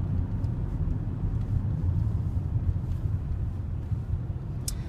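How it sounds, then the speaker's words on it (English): An Audi car drives down the road, giving a steady low rumble of engine and road noise from inside the cabin, constant and moderately loud with no talk. "I'm now driving down the road"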